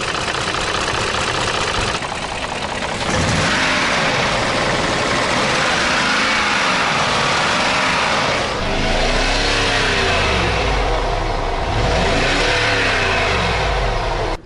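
The engine of an old Range Rover Vogue runs loud and close with a persistent rattle and vibration, its pitch rising and falling in slow repeated sweeps.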